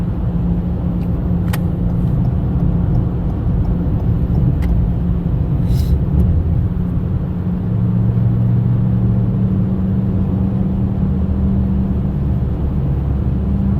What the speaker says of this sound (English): I believe it's a front wheel bearing making the noise, and I believe it's the right front wheel bearing.